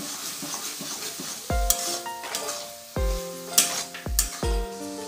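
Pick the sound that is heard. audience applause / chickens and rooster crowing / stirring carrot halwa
stirring carrot halwa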